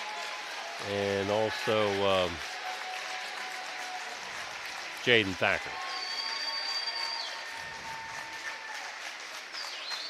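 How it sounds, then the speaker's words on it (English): A high school basketball crowd at Piketon vs McClain gives steady, sustained applause as the seniors leave the court, filling the whole stretch beneath an announcer's voice. "So they get a nice round of applause as the seniors leave."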